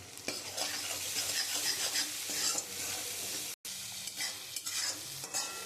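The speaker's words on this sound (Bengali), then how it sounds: "একটু মশলাটা দিয়ে কষিয়ে নিয়েছি।" Spices sauté with fish in a pan, a soft continuous sizzle under repeated scraping strokes of a stirring utensil, close but fairly quiet, with one brief drop to silence partway through and no talking.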